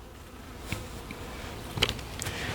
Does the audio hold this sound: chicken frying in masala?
no